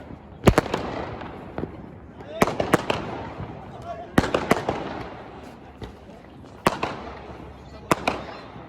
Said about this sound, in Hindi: आतिशबाजी हो रही है भाई, आतिशबाजी।